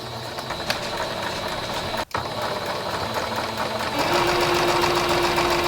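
Sewing machine stitching fabric while old clothes are upcycled, a steady close mechanical whir that pauses briefly midway, then resumes slightly louder and faster.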